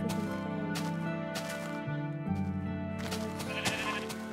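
Sheep bleat in Minecraft, several wavering, nasal baa calls overlapping one after another at close range, with some game background sound and no speech.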